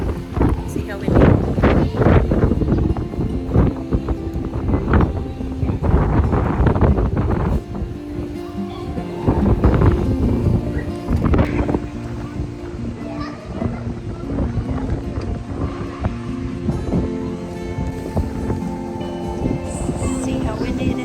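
Persistent heavy wind sweeps across a pool area in Kona, Hawaii, producing a loud buffeting roar throughout, with children's voices and other distant chatter heard under it.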